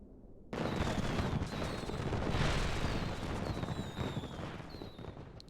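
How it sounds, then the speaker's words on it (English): Fireworks explode in the video game Kingdom Hearts 2 as a dense, continuous crackling roar with whistling streaks, starting abruptly and holding loud throughout. "Wow. Fireworks."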